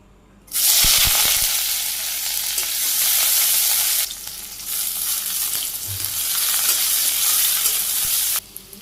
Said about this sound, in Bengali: আমি কাঁচামরিচ আর পেঁয়াজ কেটে রাখছি এখানে রসুনও কেটে রাখছি